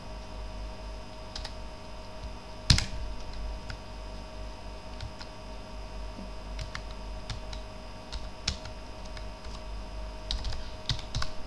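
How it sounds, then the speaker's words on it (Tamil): Keys clicking on a computer keyboard while typing text in Photoshop: sparse, light taps scattered at an irregular rhythm, faint and close, over a steady low electrical hum, with no talking. "கண்ட்ரோல் டி கொடுத்துட்டு இந்த இடத்துல டைப் பண்ண வேண்டியதான்."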